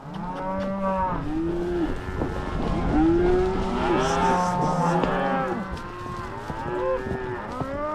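Cattle on a remote Montana cattle drive moo again and again, with several overlapping calls at different distances over a low background rumble.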